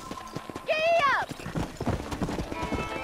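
Rhythmic hoof clip-clops of a horse on the move in Red Dead Redemption, with a brief whinny in the middle and background chatter continuing throughout.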